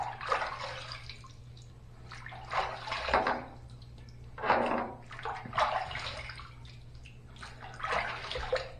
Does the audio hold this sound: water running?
yes